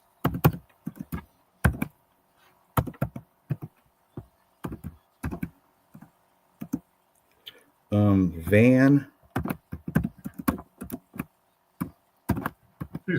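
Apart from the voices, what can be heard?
typing on a keyboard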